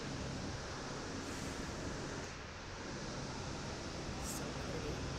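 Steady, close roar of falling water at Jurassic Falls, a dense, unbroken rush with no clear voices over it.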